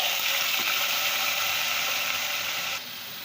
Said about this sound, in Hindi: आलूओं को 3 से 4 मिनट तक हमने फ्राई कर लेना है